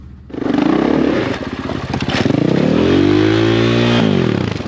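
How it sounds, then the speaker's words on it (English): A Husqvarna FE501S dirt bike engine revs up loudly nearby, the pitch climbing and holding in a sustained roar before easing slightly. "It's a dirt bike with street legal components"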